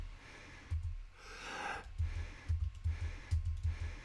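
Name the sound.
voice-over narrator breathing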